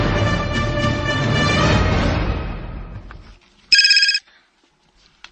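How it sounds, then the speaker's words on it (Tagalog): A brief electronic cellphone ringtone for an incoming call chirps once in a short, bright burst, right after louder background music fades away. "Ang imong cellphone, Christian. May nanawag, oh."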